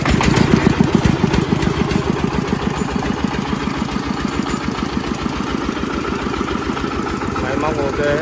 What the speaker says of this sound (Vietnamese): Máy êm lực, không khói không cả đâu.